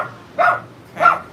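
A dog gives two separate, fairly close barks about half a second apart, with quiet background between them and no talking.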